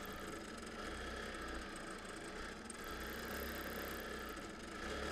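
A sewing machine runs quietly and steadily while free motion stitching a quilt border, a low continuous motor hum with faint mechanical texture and no voices.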